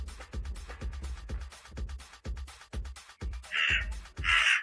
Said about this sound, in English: A pair of crows have taken exception to their larger corvid cousins.